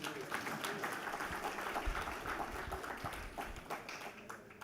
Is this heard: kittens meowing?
no